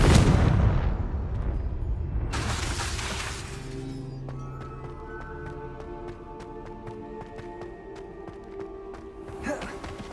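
Confringo blasting spells erupt in Hogwarts Legacy as loud, booming explosions: two heavy bursts early on, then a sparkling, ringing tail over game music, and a final sharp blast near the end.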